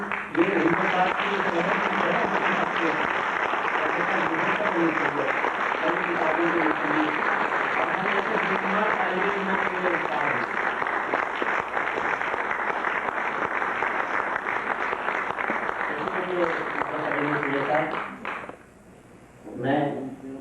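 Audience applause welcomes a guest at a 1998 poetry recital in the USA, continuous clapping from a large crowd mixed with voices, holding steady before fading near the end.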